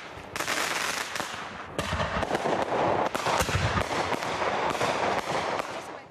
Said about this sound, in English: With the Independence Day fireworks in full swing